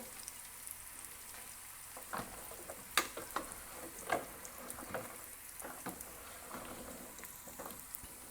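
Onions for the tempering of a beef nihari fry quietly in a pan, a soft continuous sizzle broken by a few scattered crackles and light stirring taps, low in level with no speech.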